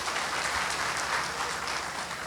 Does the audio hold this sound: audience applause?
yes